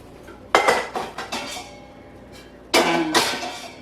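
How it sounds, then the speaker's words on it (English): Metal pots clank and clatter as they are taken out and handled in a kitchen while preparing an Instant Pot air-fried pork meal, two close bursts of loud knocks and ringing clinks separated by a quiet pause. "take out all my pots."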